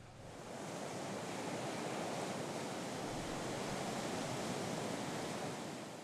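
Sea waves wash steadily against the shore, a broad, even roar of surf that swells in over the first second and holds without breaks, with no voices.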